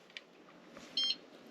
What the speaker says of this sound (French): ça fait un bip